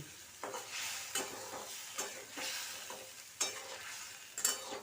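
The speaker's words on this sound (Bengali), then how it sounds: "আলু ভাজা হয়ে গেছে তার মধ্যে জিরে ধরের গুঁড়ো হলুদ নুন আর কাঁচা লঙ্কা দিয়ে" Potatoes frying in a pan with cumin, coriander, turmeric, salt and green chilli, a bright continuous sizzle broken by several stirring scrapes at irregular intervals, close and with no talk.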